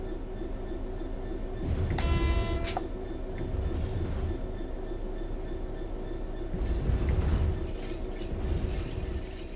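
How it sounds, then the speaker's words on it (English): A locomotive coasting on level ground in Train Sim World 4 gives a steady rumbling rail drone with clanking mechanical surges. A sharp ratcheting click sequence sounds near the two-second mark. "The train will then coast on level ground, and the train will only slow down very gradually."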